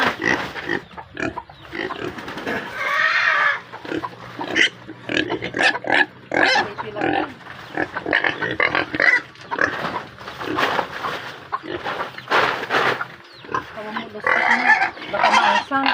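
Native pigs grunt and squeal in a series of short, irregular calls nearby, mixed with people talking over them throughout.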